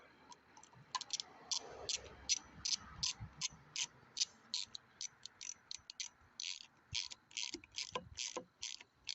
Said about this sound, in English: put your ratchet in the end of her, like this. Set her to tighten